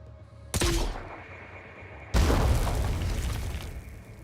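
Two grenade explosions go off in the video game Terror From the Deep, each a sharp loud boom, the second heavier, and each followed by a rumbling decay.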